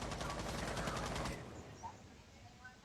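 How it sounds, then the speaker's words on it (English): Rapid automatic gunfire in an esports video game match rattles in a fast continuous burst, then cuts off abruptly, leaving faint game ambience. "Definitely credit the timing and the gunfire of Senchi"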